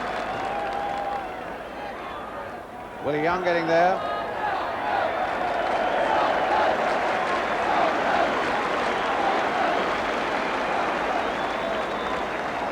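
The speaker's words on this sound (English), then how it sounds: "the crowd are still, 30 seconds after that save, still roundly applauding Pat Jennings" A football crowd keeps up long, sustained applause for goalkeeper Pat Jennings after a save, a broad steady roar of clapping and cheering with a whistle-like swoop and a commentator talking over it.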